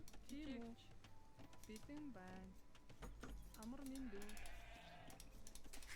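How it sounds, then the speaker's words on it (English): Sheep in a real-time strategy video game bleat repeatedly with wavering, nasal cries over steady game background sounds and clicking, while a voice talks through it. "We still have a few sheep."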